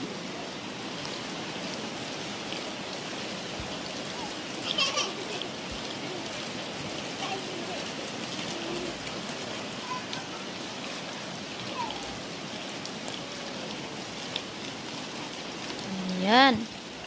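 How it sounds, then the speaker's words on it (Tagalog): Steady rain falls just outside a front door on a dim afternoon, a continuous even patter close by, with a brief squeaky sound near the end and no talk. "Kasi nga umuulan dito sa amin."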